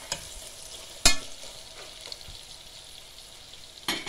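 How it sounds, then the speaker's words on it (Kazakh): Lung pieces fry in a pan for Kazakh kuyrdak, a soft continuous sizzle with a sharp utensil knock and occasional stirring scrapes, close and without talk. "Ал қыздар, өкпеміз кішкене қуырылып жатыр."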